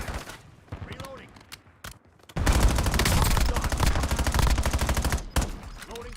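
Sustained automatic gunfire in a military shooter video game, loud bursts and rapid fusillade filling the second half after quieter scattered shots and game chatter.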